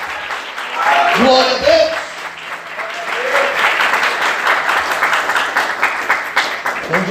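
A church congregation bursts into applause during a sermon, a loud sustained clapping that swells and continues while a preacher's voice rings out over it.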